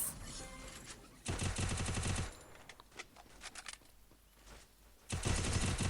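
Rapid automatic gunfire from the video game Free Fire, with two loud sustained bursts around a stretch of scattered shots, close and dominant, with no talk over it.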